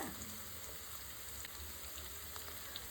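Spices and ginger paste fry steadily in hot oil for an eggplant masala, giving a continuous soft sizzle with faint crackles and no talk.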